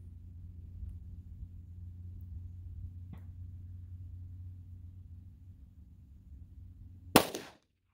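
A single sharp 9mm pistol gunshot with a Speer Gold Dot or Federal HST round near the end, standing out abruptly against a low steady engine-like rumble.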